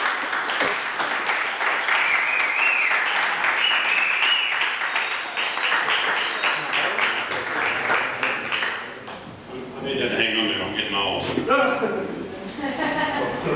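Applause and clapping from a comedy club audience in Buenos Aires as a comedian from Australia is introduced, a dense sustained roar that fades toward the end as a voice starts talking.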